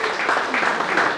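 Audience at a miners' reunion gathering applauding a birthday greeting, a brief steady burst of dense clapping close to the microphone.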